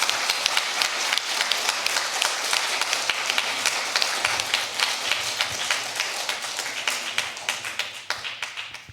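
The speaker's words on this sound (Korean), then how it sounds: "더 큰 박수 부탁드립니다." Loud, close applause fills a church anniversary service, a dense wash of many hands clapping that thins toward the end into sharper, more distinct claps.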